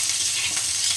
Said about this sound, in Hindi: हमारी गोभी यहाँ पे भून चुकी है